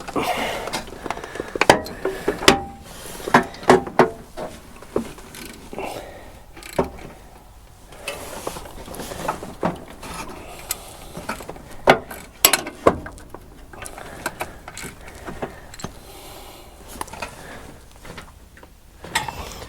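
Ratchet wrench, a 9/16 size, tightening a bolt during a tune-up on an old Dentside Ford truck, clicking in short irregular bursts among garage clatter and handling noises.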